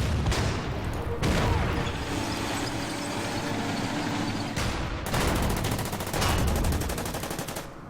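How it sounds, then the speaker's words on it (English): Bombing strike in the wargame Order of Battle: Sandstorm, with loud, sustained rumbling blasts and rapid crackling, rattling bursts layered over a dense roar, breaking off and resuming in a couple of heavy surges. "let's bomb him"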